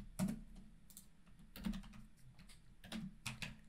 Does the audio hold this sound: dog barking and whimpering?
no